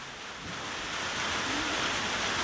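Rain falls outdoors as a steady broadband hiss that swells slightly in loudness, with no voices or other distinct sounds on top.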